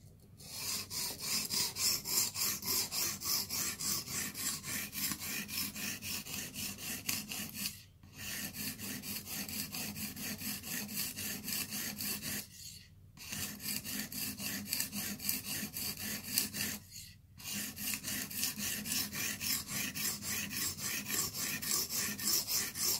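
Blitz 360 knife blade drawn over a sharpening stone in long, steady rasping strokes, close and continuous, with a few brief pauses where the blade is flipped or repositioned. No one speaks.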